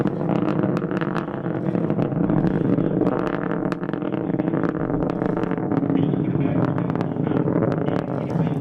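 Antares NG-11 rocket engines roaring at liftoff, a steady, dense broadband rumble with faint crackle that holds loud and even throughout, with no pauses.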